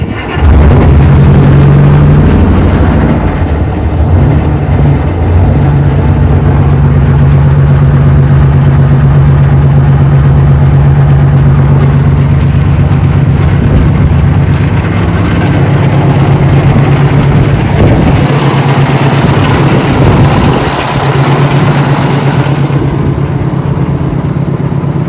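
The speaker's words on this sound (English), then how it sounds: "Nothing like the sweet sound of a two-stroke GM, just idling away there like a Swiss watch running." A supercharged two-stroke V8 Detroit GM diesel in a Kenworth truck idles on and on, a loud, close, steady rumble with an even throbbing beat and no talk.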